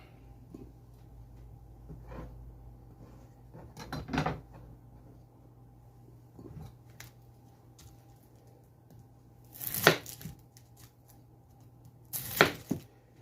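A knife cuts peppers on a board for plant-based chili, with a few sharp, separated chops and some quieter cutting and scraping over a faint low hum.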